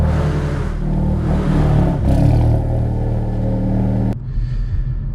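A manual Hyundai Veloster N engine idles while warming up before a drive in Korea, a steady close, low rumbling hum with a slight swell in the middle before the sound drops sharply near the end.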